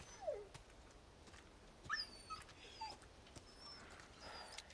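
A hurt dog with a broken leg whimpers in Resident Evil 4, giving several faint high whines and yelps spread across the moment against a quiet background.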